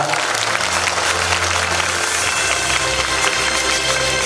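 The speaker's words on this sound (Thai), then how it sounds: "ขอเสียงปรบมือดังๆด้วยครับ" Loud, dense applause from a large crowd at a Thai government platform launch ceremony, sustained and even, with a faint low background hum.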